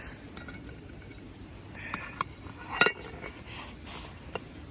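Faint metallic clinks and light clatter of a hot pot lid and kitchenware at a stone camp, with one brighter clink standing out partway through, in a quiet setting.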